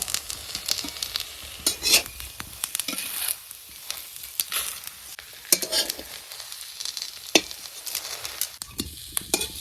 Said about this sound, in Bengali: উল্টা পাল্টা করে লাল লাল করে ভাজিয়ে নিলাম